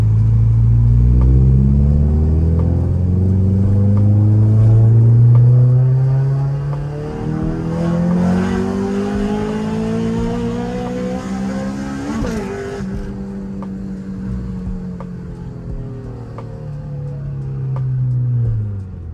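A 1996 Honda Civic EK hatchback with a stock muffler rumbles loudly nearby, its engine revving up and easing down in rising and falling sweeps over about twenty seconds, with no talk.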